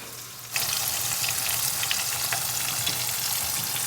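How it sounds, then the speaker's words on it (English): Chicken sizzles and crackles steadily in a hot pot, a loud continuous frying hiss with small pops and no talking. "Let them sizzle for a second."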